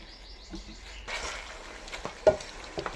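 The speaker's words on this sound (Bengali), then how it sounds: "অল্প নেড়ে চেড়ে মিশিয়ে নিব।" Fried chicken stirred into cooked spices in a pot for Eid chicken biryani, with a low steady sizzle under scraping spoon sounds and a sharp metallic clink near the end.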